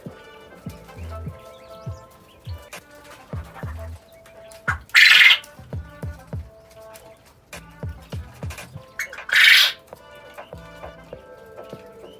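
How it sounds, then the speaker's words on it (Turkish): A bird, likely a pigeon, gives two loud, harsh squawks close by, among softer chirps and scattered human voices speaking. "Tatlı kuşum."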